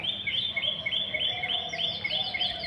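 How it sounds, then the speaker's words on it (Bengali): Birds chirp in quick repeated high tweets, a lively cluster of calls close by over a low background hum. "পাখিগুলো আস্তে আস্তে আসতে শুরু করেছে, পাখিগুলোকে খাবার দেব"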